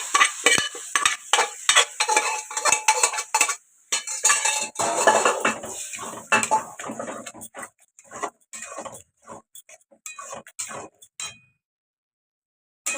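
Boiled dal for dal makhani goes into a pan and is stirred hard, giving dense clinks and scrapes of a metal spoon against the pan over a light sizzle, which thin out into scattered taps and then fall silent.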